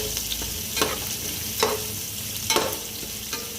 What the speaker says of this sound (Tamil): பெரிய வெங்காயத்தை ஆட் பண்ணி அப்படியே பொன்னிறமாக வர்ற மாதிரி